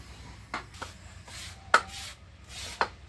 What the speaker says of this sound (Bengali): আমি বটি দাওটা দিয়েই সুন্দর করে পিস করে নিচ্ছি।